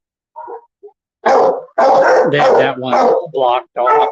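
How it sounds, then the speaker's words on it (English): A dog barks and yips in a series of loud, close calls at the Hawaiian Humane Society shelter in Honolulu, with a person talking over and between the barks. "You can hear the dog barking"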